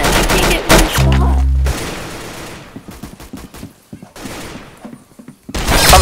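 Rapid bursts of gunfire from the Roblox game Arsenal on a laggy server crackle loudly, a deep booming shot followed by scattered shots and clicking, with a player's voice talking between them.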